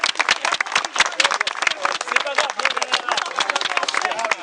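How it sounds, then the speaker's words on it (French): An audience claps at a Camille Flammarion centenary gathering. Brisk, uneven handclaps run throughout beneath someone speaking French close to the microphone. "je pense qu'on peut l'applaudir hein, s'il vous plaît"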